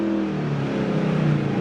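A car engine revs hard under steady throttle during a drift around cones, a continuous droning growl close by that rises slightly toward the end, with no talk.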